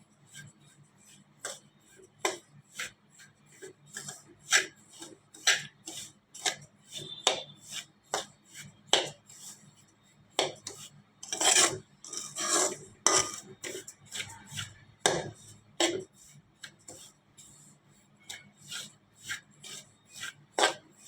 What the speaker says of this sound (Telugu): సో రవ్వ అనేది వేసేసుకున్నామండి.